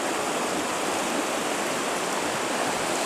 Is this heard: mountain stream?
yes